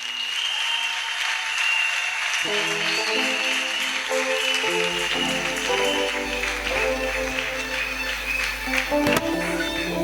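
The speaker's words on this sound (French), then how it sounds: "Merci les enfants, une belle acclamation." A church congregation applauds the children after a Sunday school performance, a steady wash of many hands clapping throughout, with music or voices underneath.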